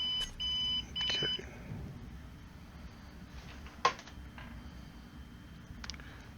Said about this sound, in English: That beeping sound you hear is my alarm system.